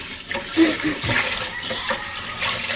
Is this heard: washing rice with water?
yes